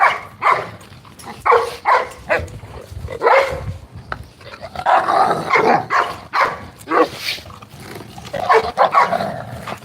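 Several dogs bark and yip excitedly nearby, overlapping in rapid bursts, loud and busy throughout with some whining mixed in.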